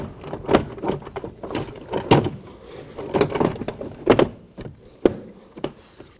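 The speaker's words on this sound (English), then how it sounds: "We are going to push it into place and secure our clips all around the perimeter." A door panel is pressed onto the door of a 2020 or later Toyota Corolla, giving a series of close, dull plastic thumps and clip snaps at irregular intervals with handling rustle between them.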